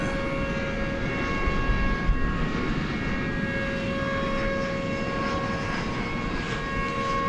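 An Airbus A321 jet taking off at night at DFW Airport for Mexico City gives a steady, moderately distant engine rumble with a sustained whine, even in level and unbroken throughout.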